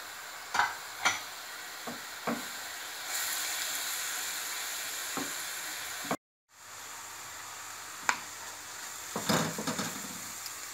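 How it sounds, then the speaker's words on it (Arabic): Onion and garlic with a little salt and carrots sauté in a pan, giving a soft sizzling hiss broken by scattered utensil taps and stirring scrapes, briefly cut off before resuming. "ملي كتشحر لي البصله مع الثومه وشويه ديال الملحه، كنضيف عليهم خيزو"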